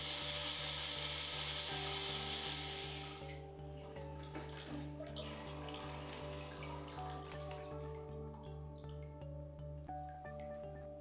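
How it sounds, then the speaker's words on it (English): Water from the enema function of a Bio Bidet BB-1700 Bliss bidet, a strong, narrow, non-aerated stream that hisses loudly for about three seconds, then stops and leaves quieter background hum and small clicks. "It produces a strong, non-aerated, narrow stream of water that's meant to stimulate the rectum and relieve constipation."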